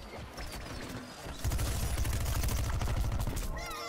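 A cannon in the video game Plants vs Zombies Garden Warfare fires a rapid run of loud booming shots, a dense rattling burst that starts abruptly and fades into game effects.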